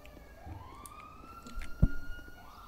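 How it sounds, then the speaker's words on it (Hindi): An ambulance siren in a video game wails steadily in the background, rising and holding its pitch, with a sharp thud and traffic noise nearby. "ओए लो फिलिक्स पहले एम्बुलेंस को जाने दो, तुम साइड लगा दो"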